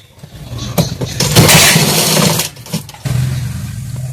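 Sewing machine stitching a simal katori blouse, running in loud continuous motor bursts with a brief pause and restart, heard close and alone.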